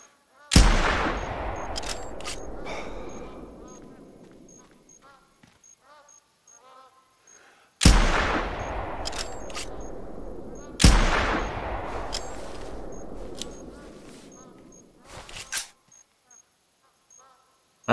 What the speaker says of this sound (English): I'm gonna go shoot him with the rifle.